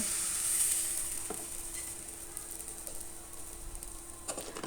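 Patishapta batter sizzles on a hot tawa griddle, a steady close frying hiss that fades slightly over a few seconds, with faint scraping and stirring clicks near the end.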